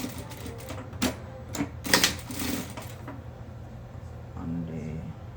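A sewing machine stitches a ruffle onto the slit of a pencil dress in quick rapid bursts of needle chatter, separated by short pauses, with soft handling noise between runs.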